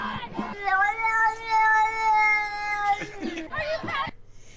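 A cat meows in a long drawn-out, strongly pitched cry lasting about two seconds, followed by shorter wavering calls, close and fairly loud.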